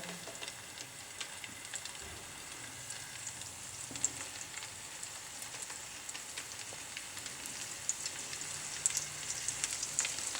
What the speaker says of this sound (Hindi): लेकिन मैं इनको सिंपल ही तल रहा हूँ